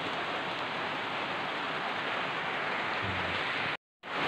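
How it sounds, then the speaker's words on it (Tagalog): Heavy rain pours down outdoors in a steady, dense hiss that stays loud and unbroken, cut by a brief drop to silence near the end, with no one talking. "Ulan na."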